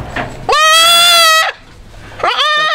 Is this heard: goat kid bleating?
yes